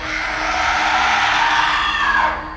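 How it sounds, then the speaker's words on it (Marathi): A woman's horrific scream, used as a horror sound effect, rings out loud and sustained as a single harsh shriek that holds for over two seconds before fading. "ती साईला पाहून भयानक आवाजात किंचाळली"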